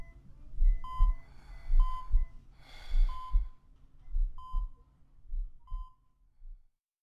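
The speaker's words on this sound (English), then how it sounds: "The sound of the old heart rate monitor." A heart rate monitor in the video game Port of Call, set in a hospital, gives a regular electronic beep roughly every second and a quarter over low rhythmic breathing-like ambience, with one breathy burst midway.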